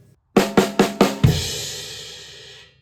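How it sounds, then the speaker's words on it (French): Four quick, evenly spaced snare drum hits ring out alone, followed by a fifth heavier hit whose wash sustains and fades. "c'est 4 coups sur la caisse claire"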